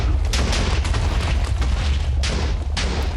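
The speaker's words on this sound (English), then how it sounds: "this TNT, and I'm gonna set off this next one here" A TNT block detonates in Minecraft, a loud, continuous booming blast with deep rumble and a few sharp bursts layered over it, filling the whole short stretch.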